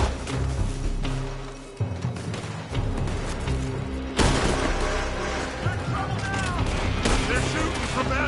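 Gunfire from a building in Red Dead Redemption 2, a dense, continuous fusillade of shots and impacts over a busy game soundscape with music, growing louder and heavier partway through.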